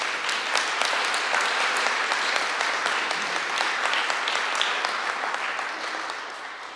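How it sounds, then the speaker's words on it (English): Sustained audience applause for congressional honorees at an awards event for the fight against TB, dense steady clapping that fills the room and tapers slightly at the end. "Can we have another round of applause for them"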